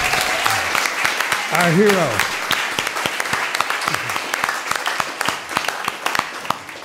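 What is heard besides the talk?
audience applause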